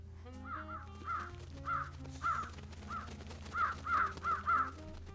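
Crows caw in the video game Trüberbrook, a string of about a dozen harsh calls at a moderate distance over a low steady hum of game ambience, with the calls bunching more tightly toward the end.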